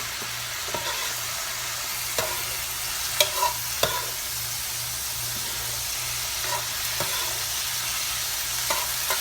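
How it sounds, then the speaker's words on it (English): Shrimp fry in a pan under a steady broad sizzle, with scattered scraping stirs and a faint rhythmic hum in the background. "You want to make sure you allow your shrimp to cook through thoroughly"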